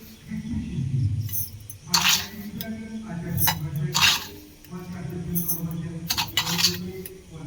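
A spoon clinks against a bowl as five spoonfuls of sugar go into sweetened mango for Bengali mishti doi, giving three or four sharp metallic taps spaced about two seconds apart over a low, steady background.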